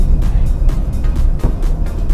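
Inside an All New MG3 Hybrid cruising at 50 km/h, the petrol engine kicks in with a low, steady rumble blended with road and tire noise, even and fairly loud.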